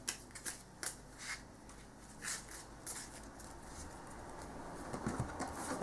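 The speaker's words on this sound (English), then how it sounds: "So you put them back into your deck and you give it a shuffle." A deck of Cardfight Vanguard trading cards is shuffled at a table, giving a run of soft riffling, flicking card sounds in short uneven bursts, close and fairly quiet, with no talking.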